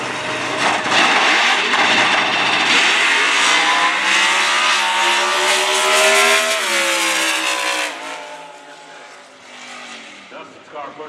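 A drag racing car at the NHRA 65th US Nationals roars loudly down the strip, its engine note rising steadily before fading away into the distance near the end.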